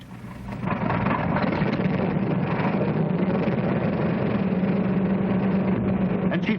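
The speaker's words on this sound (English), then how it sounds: "Engines start." Large multi-engine bomber aircraft engines starting up and settling into a steady, loud idle, a dense continuous low drone filling the whole clip after a brief quieter start.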